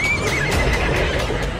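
A huge horse neighs as it strains to haul a load, a loud, continuous whinny set against steady rumbling background noise.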